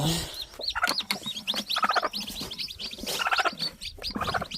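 A mother hen clucks close by beside a nest of chicks, giving steady, rapid clucks and higher chirps that repeat throughout, with no voices.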